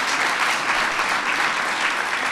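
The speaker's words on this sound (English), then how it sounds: "Let's give them a round of applause" An audience at a White House poetry workshop applauds the poets, a dense, continuous wash of many hands clapping at close range.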